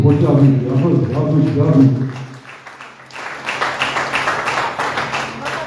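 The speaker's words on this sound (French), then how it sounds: "Continuez à applaudir toujours, continuez à applaudir." A church congregation applauds during a French-language service; someone speaks, then dense, steady clapping fills the room at moderate loudness.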